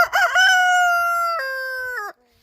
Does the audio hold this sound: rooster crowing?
yes